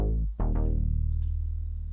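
A fat, dry bass synth note from a song mix, played without drive or reverb, heavy in the low end and sustained after a brief dip and retrigger, alone.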